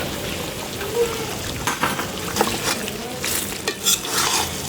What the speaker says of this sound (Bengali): আলু দিয়ে আবারও সুন্দর করে কষিয়ে নিব